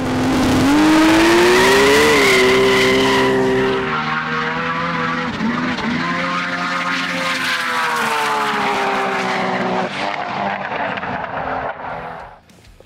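A Nissan GT-R's loud engine roars and climbs in pitch as the car launches hard on a drag run, then holds a strained high-revving drone before cutting off.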